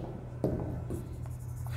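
Chalk or pen writing out a sine and cosine trigonometry formula on a board, a brief scratchy stroke standing out over a steady low hum, with no talking.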